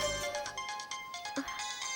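A mobile phone rings with an incoming call, a bright repeating electronic ringtone pattern that plays alone, fairly close and steady, for about two seconds.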